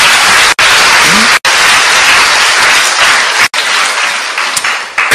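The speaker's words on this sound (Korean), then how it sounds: "박수로 하나님께 영광입니다" Dense, loud applause from a large congregation at a Korean church patriotic lecture, a continuous wash of clapping broken by a few brief dropouts.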